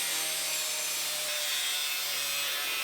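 Steady close rasping of a power cutter slicing into the body metal of a 1965 Mustang, a continuous bright high-pitched grind with a faint low hum that shifts pitch briefly partway through.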